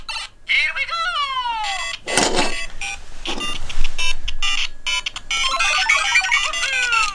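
LEGO Super Mario timer block from the Piranha Plant balance challenge set 71365 triggered on its pipe, giving bright electronic chimes and rising beeping jingles that run in bursts with brief gaps.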